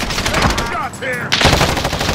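Gunfire in the video game Call of Duty, mini royale mode: loud, rapid bursts of shots fill the clip, easing into a brief lull near the middle before heavy firing resumes.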